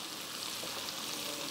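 Freekeh hitting sizzling onions in oil and butter makes a steady, close, hissing fry that holds evenly throughout with no voices.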